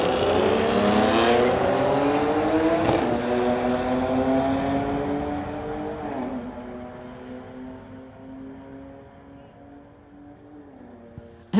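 A 2009 BMW 335 and a 2019 Audi R53 launch together on a street-legal drag strip, loud engines roaring and upshifting through the gears as the pitch climbs and steps, then fading steadily into the distance.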